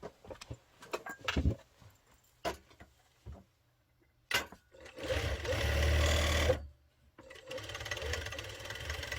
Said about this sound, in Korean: 끝까지 이렇게 해서 라운드 예쁘게 박음질 될 수 있도록 하고